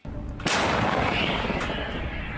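Heavy artillery fire, such as 152 mm guns in defensive fighting, hits as one sudden loud boom after a brief quiet moment, then rolls on as a long, dense, reverberating rumble with no voices.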